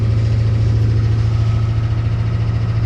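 A 1972 Chevrolet Impala with a small block 400 and a Holley carburetor without choke idles loudly just after a cold start, a steady deep rumble with an even, continuous pulse and no talk.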